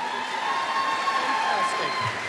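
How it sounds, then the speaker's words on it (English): A crowd at a Strictly Come Dancing charity dance night hosted by a GAA club breaks into loud, dense applause and cheering that holds steady and close throughout. "give Leanne and MJ a big round of applause"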